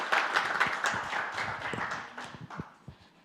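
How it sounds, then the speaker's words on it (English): Audience applause at a gala awards dinner: scattered hand claps and taps through the room, moderately loud at first and thinning out gradually, with no voices over it. "Another round of applause"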